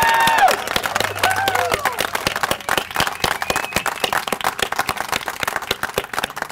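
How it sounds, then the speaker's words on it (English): A crowd at a Howard County government announcement claps and cheers, with whoops and raised voices over the start, then brisk scattered applause continuing loudly to the end. "but I want cheers."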